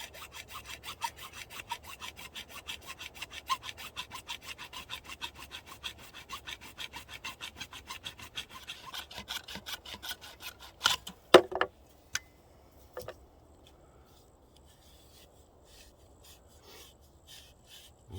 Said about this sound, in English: Let's cut that off. A reciprocating saw works much better.